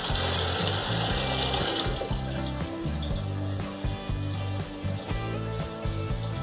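Water rushes into a Deca close-coupled toilet cistern as it refills, a steady close-up hiss and splash with a low gurgling hum, running continuously without talk.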